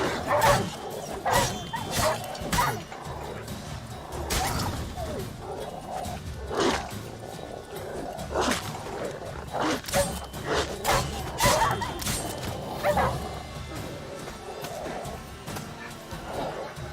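Stray dogs in The Witcher 3 snarl and bark in an ongoing fight, mixed with combat thuds and impacts, a busy, continuous game soundscape at close range.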